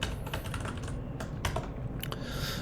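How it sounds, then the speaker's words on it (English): Steady, continuous clatter of keys on a computer keyboard while coding, near and fairly loud, with rapid irregular keystrokes and no voices. "let's go on and start typing this out"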